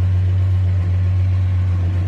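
A 1966 Plymouth Belvedere II engine runs steadily with a strong low hum and a fresh exhaust system, loud and close, with no voices.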